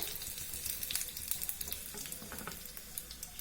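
Urad dal, cumin and a dried red chili fry in hot oil for a chutney tempering, giving a steady close crackling sizzle with scattered pops throughout, no voices.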